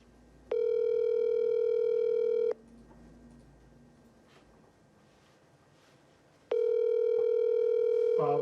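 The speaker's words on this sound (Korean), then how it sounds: "전화 연결 잠시만 기다려 주세요." A telephone ringback tone sounds while a call connects, two steady, loud beeps of about two seconds each separated by a four-second gap with faint background noise.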